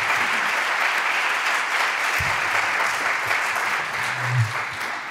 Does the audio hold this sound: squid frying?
no